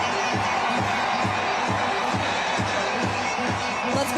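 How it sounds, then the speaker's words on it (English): A large crowd of Dodgers fans outside the stadium in center field cheers and chants in a dense, distant roar with a rhythmic pulsing beat running through it, while a broadcaster talks over it. "And you can probably hear the crowd."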